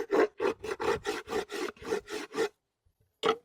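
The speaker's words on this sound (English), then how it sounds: "I usually use this part of the hive tool to get in this area and clean that up where all your frames sit" A metal hive tool scrapes sticky wax and propolis off the frame rests of a wooden beehive box in rapid, rhythmic strokes, about ten close rasps, a brief pause, then one more.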